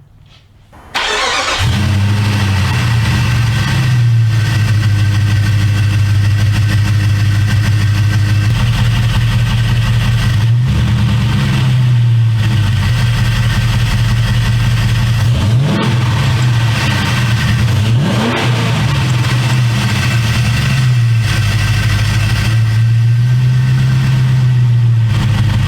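A 1999–2004 Jeep Grand Cherokee WJ 4.7 V8 with new polyurethane motor mounts and 08 camshafts cranks and starts, then settles into a loud, slightly rough idle with several short revs, close and continuous with no talking.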